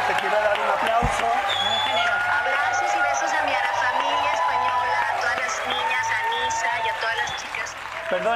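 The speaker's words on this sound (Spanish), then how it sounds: "Este es el público, te quiero dar un aplauso." A studio audience on a TV talk show gives steady, dense applause that continues for several seconds while people talk over it.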